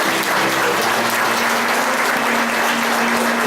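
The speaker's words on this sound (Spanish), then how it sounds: "Fuerte aplauso a Cristo." A church congregation bursts into steady, loud applause, a dense wash of many hands clapping without pause, with a low sustained hum running beneath it.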